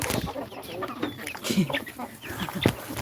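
Chickens cluck and chatter close by while being fed grain, short repeated calls over a faint voice in the background.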